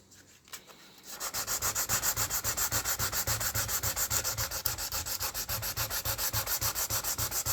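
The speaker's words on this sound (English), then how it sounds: "I'm going to sand this out here as well with a finer grit sandpaper" Rapid back-and-forth sandpaper strokes scrub paint off a poly-finished plywood Stratocaster guitar body, a steady rhythmic rasp close up after a quiet start, with no talking.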